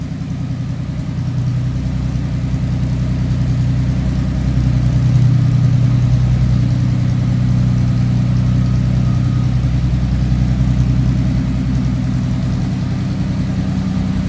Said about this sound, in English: Let's come back here and take a listen.